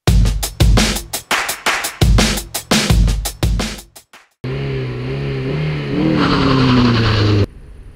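A Toyota Celica 1.8 VTi sports coupe engine is blipped in a rapid series of sharp revs and drops, then settles into a sustained higher rev held for a few seconds before cutting out.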